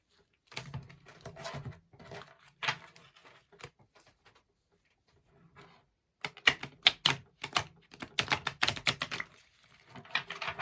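Tarot cards being shuffled, bursts of quick crisp riffling and slapping patter broken by short pauses, close and fairly quiet, with no talking.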